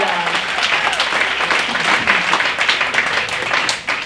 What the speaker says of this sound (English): Everyone give a great round of applause for Carlos Castro